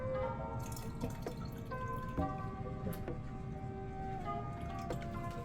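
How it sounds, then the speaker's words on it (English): Whey from pressed homemade cheese pours into a pot in a steady close-up stream of trickling and dripping liquid, with small splashes throughout and no talking. "I'm going to pour out some of this whey."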